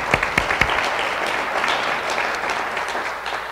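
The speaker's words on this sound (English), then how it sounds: "let's also give a round of applause of thanks to our two sponsors again today, ADG and Cox" An audience at a chamber of commerce forum lunch applauds its sponsors, a dense wash of clapping that starts with a few sharp, close claps and holds steady without speech.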